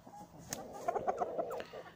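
A hen clucks softly in a short run of quick, quiet clucks close by, with no talk over it.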